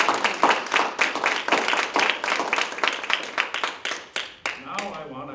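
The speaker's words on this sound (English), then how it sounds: "let's give a round of applause for the RSVP" Audience applause at a community foundation event, a dense crowd of clapping hands that carries steadily for several seconds before thinning out toward the end.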